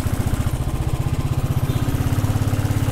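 A motorcycle engine labouring in first gear up a very steep mountain road towards Pelling, a rapid, steady low thumping beat that stays loud and close throughout with no talk.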